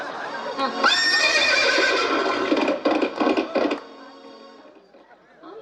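A horse gives a loud, close neigh that swells, then stutters into shaking pulses before fading away, with a low voice under its tail.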